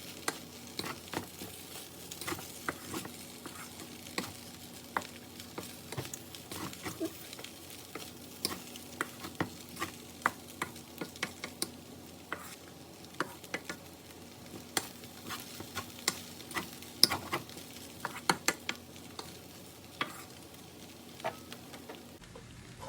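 Ham fried rice with egg frying and being stirred in a pan, a steady soft sizzle with frequent scraping and clinking strokes of the utensil, close and continuous, no talking.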